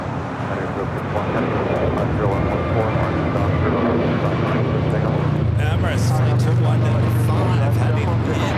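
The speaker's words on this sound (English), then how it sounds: "heavy Dreamliner will depart the parallel" A heavy Boeing 787 Dreamliner departs runway 25 Left at LAX, its engines a loud, sustained roar that swells and shifts in pitch partway through, with radio voices talking over it.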